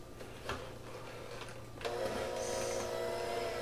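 An electric mixer beats sugar cookie dough, its steady motor whir jumping to a louder, higher hum midway as the speed is raised, close and continuous with a faint rhythmic ticking underneath.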